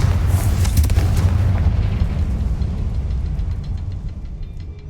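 A loud fire spell explosion in the Hogwarts Legacy video game, with a heavy booming blast that rumbles and crackles before slowly fading out, with no voices over it.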